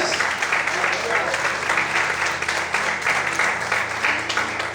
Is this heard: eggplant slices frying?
no